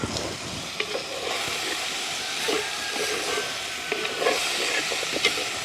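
Dried fish curry fries in a pan with a continuous steamy hiss and sizzle, dotted with a few soft clinks and stirring scrapes, close and moderately loud, with no talking.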